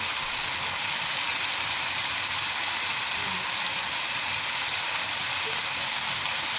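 Vegetables for chicken egg fried rice fry in a hot pan, producing a constant, loud, even sizzle like heavy rain that holds steady throughout with no speech.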